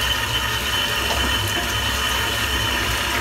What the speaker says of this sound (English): let's get this brush rinsed out.